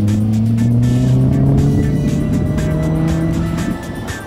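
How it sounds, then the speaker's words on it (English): Engine of a 1980 Lotus Esprit Turbo in Essex petroleum livery, a loud sustained drone with rising pitch as it accelerates, then easing off near the end. "A 1980 Lotus Esprit Turbo in eye-melting Essex petroleum colours."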